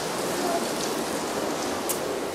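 Steady rain falls outdoors on a car and garden in a continuous, even hiss, with a few faint drops and sounds standing out nearby.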